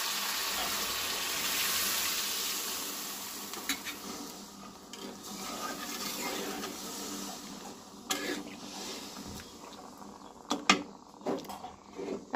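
Water splashes into a hot pan of spiced fish for a fresh uralu fish curry gravy, a steady hiss and bubbling at first, then settling into softer simmering broken by a few scrapes and clinks, with no talking.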